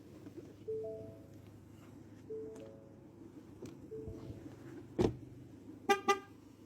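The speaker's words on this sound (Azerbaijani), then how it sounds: "Bu siqnal da o deməkdir ki, yəni açar maşından kənardadır." Warning beeps from a Fusion car sounding as the remote key is carried away from it: a soft two-tone chime repeating about every 1.6 seconds, then two sharper chirps near the end, over faint outdoor background.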